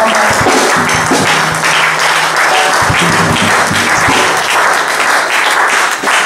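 Church congregation applauding during a worship service, loud continuous clapping from many hands with some voices singing or calling out underneath, filling the whole stretch without a break.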